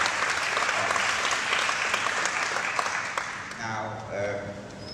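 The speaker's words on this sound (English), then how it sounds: "Give yourselves a round of applause" A crowd at a startup demo day breaks into full, sustained applause that rolls on for several seconds, then thins as a voice begins speaking over the fading claps near the end.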